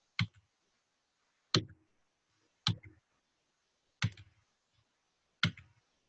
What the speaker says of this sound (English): I'm just left clicking and then hitting the delete key